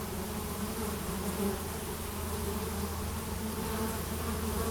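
Honeybees buzz at a hive entrance, some fanning their wings, forming a dense, steady close-up drone with no voices.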